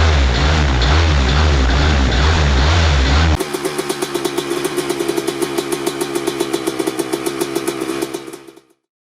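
A paramotor's small propeller engine runs loud and close, a rough broadband roar that abruptly shifts to a steady pulsing buzz, then cuts off and fades at the end.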